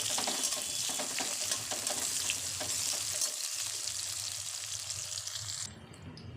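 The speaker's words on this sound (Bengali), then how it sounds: "পেঁয়াজগুলো ভালো করে তেলের সঙ্গে নেড়ে চেড়ে নরম করে নেব।" Chopped onions fry in hot oil and are stirred, making a close, steady sizzle with scraping stirring strokes that fades toward a quieter end.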